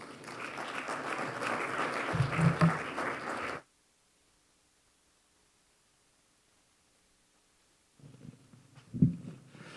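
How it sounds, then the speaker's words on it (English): A seated audience claps for a panel at a biomanufacturing policy event, the applause loud and dense for a few seconds before cutting off to silence, then quieter room noise and shuffling return. "Can I have a round of applause for our panel,"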